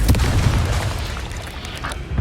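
Confringo blasting spell explosion in Hogwarts Legacy, a dense, loud, rumbling burst filling the whole moment with a heavy low-end roar and crackling debris, no voices.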